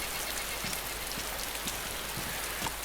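Steady rain falling in the video game DayZ, a constant dense hiss of drops spattering on surfaces with occasional louder individual drips, continuous and even throughout with no voices.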